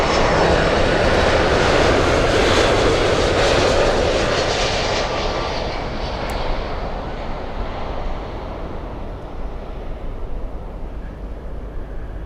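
A Bahamasair Boeing 737-800 jet arriving at Miami International Airport from Nassau roars loudly overhead, a broad rushing jet noise that slowly fades and recedes into wind as the plane passes, with no talking.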